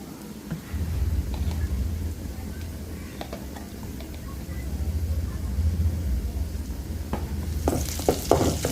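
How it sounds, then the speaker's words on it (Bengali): Onions frying with cumin paste in a pan for egg curry, a continuous sizzle with a low hum underneath and a burst of clattering stirring near the end. "জিরা বাটা দিলাম ভালো করে ভেজে তারপর টমেটো দিব"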